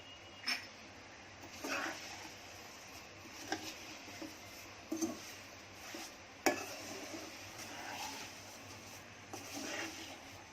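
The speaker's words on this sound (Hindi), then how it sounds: "सिवैया मैंने कम गैस पे 1 मिनट मिक्स कर दी सब" Roasted vermicelli stirred in a pan over low gas, with soft intermittent spoon scrapes and light metal clinks, faint and close, with no talking.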